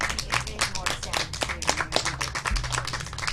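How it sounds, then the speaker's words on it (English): Audience applause for a poet at an outdoor-style poetry stage event: scattered, moderately loud claps with uneven rhythm, with voices murmuring underneath throughout. "Let's have another round of applause for Joan Dobbie."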